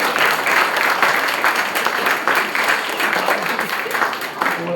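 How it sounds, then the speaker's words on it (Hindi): Applause from a church congregation during a Christmas service fills the whole stretch, dense and steady with a few louder swells, and some voices mixed into the clapping. "तालियां बजा सकते हैं परमेश्वर के आनंद के लिए।"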